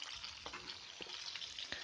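Small fish, including tengra, sizzle in hot oil in a Bengali kitchen, a soft continuous crackling hiss with a few faint clicks, no voices.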